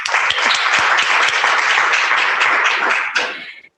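An audience at a conference on the domain names industry in Africa claps loudly and steadily for a few seconds, then the applause tapers off quickly.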